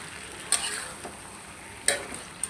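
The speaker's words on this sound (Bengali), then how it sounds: "এখন ভালো করে ভেজে নিব।" Potatoes fry in a pan for a chickpea curry, giving a soft, constant hiss broken by a few sharp utensil clicks and scrapes.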